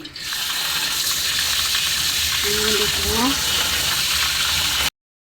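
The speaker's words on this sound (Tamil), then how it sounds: "இப்போ தண்ணியை ஊற்றி" A steady, loud rush of water pours and hisses continuously for several seconds into a hot pan of cooked cauliflower, with a faint voice briefly heard under the flow before it cuts off.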